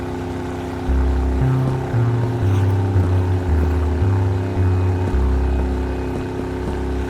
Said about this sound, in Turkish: anne keçi tekneyi daha hızlı kullanmaya başlamış.